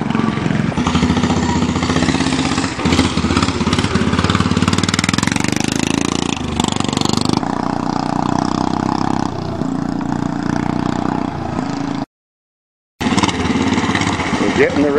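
Modified lawn tractors race at a farm, their small engines buzzing and revving loudly and close by for most of the stretch, with people talking over them. A short silence breaks the sound before the engines return.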